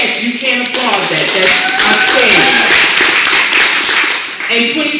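An audience breaks into loud applause, dense clapping that swells and fades over a few seconds, heard under a speaking voice.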